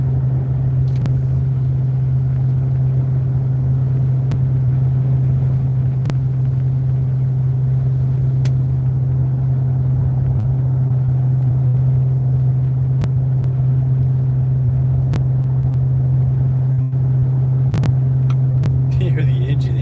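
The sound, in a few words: vehicle engine straining up mountain, towing house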